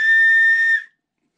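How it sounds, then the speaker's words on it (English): Single loud, shrill blast from an emergency whistle out of a Surviveware 2-person 72-hour survival bag, a steady piercing tone under a second long that cuts off cleanly into silence. "So first and foremost, we've got our whistle."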